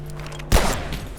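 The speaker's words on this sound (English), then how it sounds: "Oh, grenade." A grenade explodes in Abiotic Factor: one sudden, loud, low boom hits halfway through, then a rumbling decay fades under the quiet game ambience.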